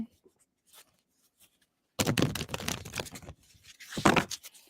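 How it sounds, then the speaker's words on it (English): Tarot cards being shuffled by hand, a brief faint rustle followed by a dense, close flurry of papery riffling and slapping in two bursts, no talk. "I'm going to go ahead and shuffle for you now"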